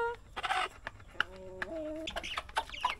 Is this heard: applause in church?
no